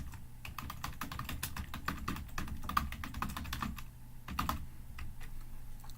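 Rapid, steady typing on a computer keyboard, a sentence being entered with dense clicking keystrokes and brief pauses, close and clear with no talking.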